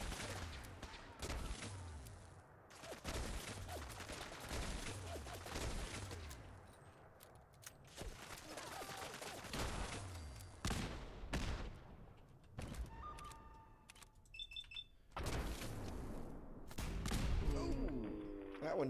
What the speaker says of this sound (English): Heavy machine gun turret.